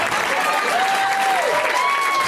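A comedy podcast crowd applauds loudly and thickly as guests are welcomed, a full constant roar of clapping with voices calling out over it.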